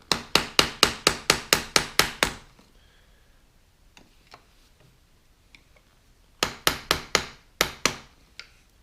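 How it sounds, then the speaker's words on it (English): A screwdriver is struck with quick, sharp metallic taps to knock a seat knob off a 1988 Suburban front seat. One run of about nine rapid taps comes first, then a pause with faint clicks, then another burst of taps, all close and loud. "hold the screwdriver, and then give it some taps"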